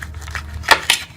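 Kinnow oranges being cut with a knife and handled on dishes give a few soft clinks and two sharper clatters of utensil against plate, close by and brief, with no voices.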